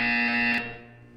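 A buzzer sounds in the Portal 2 video game, one steady, loud electronic tone lasting about half a second before it cuts off and rings down, with no talking.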